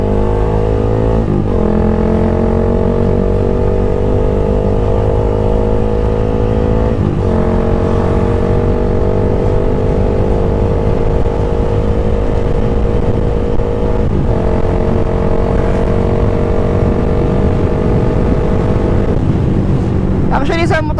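A Suzuki Gixxer motorcycle engine with an aftermarket exhaust runs loud and steady, its pitch climbing through several gears as it accelerates, with brief drops between shifts.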